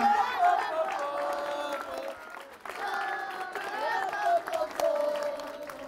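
A studio audience applauds for a singing teacher named Nancy on a televised talent show, a sustained wash of dense clapping with some cheering that dips briefly and then swells again.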